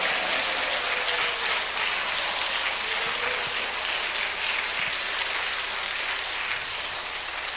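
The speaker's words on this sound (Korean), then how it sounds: "if you clap your hands, you can clap and give him the glory" Steady congregation applause fills a church, a dense wash of many hands clapping at an even level throughout with no voices on top.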